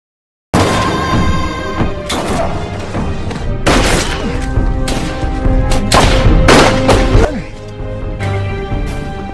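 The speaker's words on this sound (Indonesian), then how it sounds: "Dengan berat hati, Kapten Amir menembak Budi tepat di jantungnya." Loud gunfire in an Indonesian war film about fighting the Dutch, several sharp booming shots scattered across a few seconds with crashing thuds between them, dense and close with no one talking.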